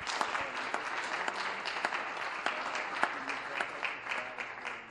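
Steady audience applause at an environmental innovation awards ceremony, a continuous wash of many hands clapping at moderate volume throughout with no break.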